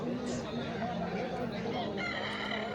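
An Aseel rooster crows nearby at a busy Sunday market, amid murmuring voices and other fowl.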